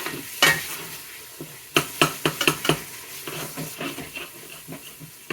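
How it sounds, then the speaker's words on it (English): Two pounds of 80-20 hamburger meat browning in a pan, a soft steady sizzle broken by a series of sharp scrapes and clacks of a utensil stirring against the pan. "Hamburger meat is looking really good. I want it browned extremely well."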